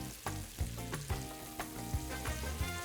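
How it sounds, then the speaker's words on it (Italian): Tuna and potato croquettes sizzle and crackle frying in hot oil, with soft bubbling and occasional louder pops and clinks, close up and fairly quiet. "Olio a temperatura, possiamo friggere."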